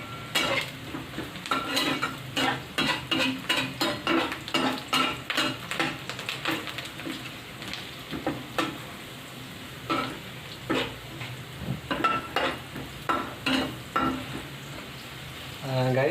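Onions frying in a pan and stirred for a potato and vegetable biryani, with steady sizzling under repeated scraping and clinking of a utensil against the pan, close and fairly loud throughout.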